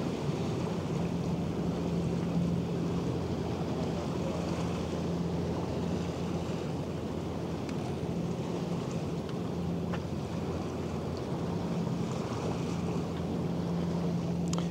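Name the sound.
large ship sailing past in harbour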